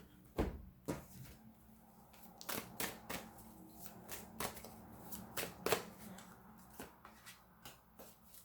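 Tarot cards are handled and shuffled at close range in a quiet room, giving soft irregular riffling snaps and taps spread over several seconds.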